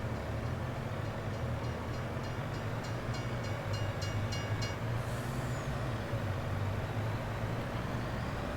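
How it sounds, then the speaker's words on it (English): A train passes in the Farming Simulator 22 video game with a steady low rumble of rolling wagons. Faint rhythmic clicks sound over it, and a brief hiss is heard partway through. "The train, the train."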